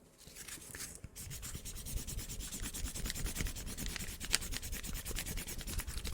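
Intense, fast wiping across paper produces dense, rhythmic back-and-forth rubbing strokes, close and continuous, after a brief pause near the start.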